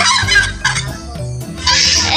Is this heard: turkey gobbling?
yes